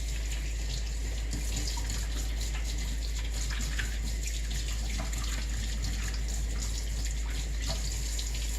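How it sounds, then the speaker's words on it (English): Water from a tap runs in a steady, close gush into a sink as hands are washed after handling raw fish, with a continuous splashing hiss throughout. "I'm going to quickly wash my hands because I was just touching raw"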